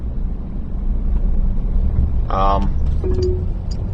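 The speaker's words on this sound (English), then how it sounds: "There's some wind" Wind roars as a steady low rumble around a vehicle during a live storm chase, loud and constant, with a brief voice and a short tonal chirp over it.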